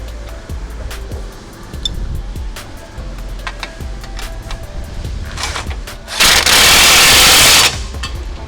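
A power tool runs in one loud, steady burst lasting under two seconds as it tightens the bottom strut bolt while fitting a rear suspension conversion kit on a 2021-2025 Chevrolet Suburban, preceded by quieter workshop clatter.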